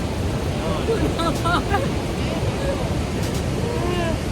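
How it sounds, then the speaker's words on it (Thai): A steady, roaring rush of a powerful waterfall in Iceland's Golden Circle fills the scene, loud and continuous, with voices faintly audible beneath it. "คือมันแบบกระเด็นละอองแรงมากอะน้ำตกมันแรงมากอะ"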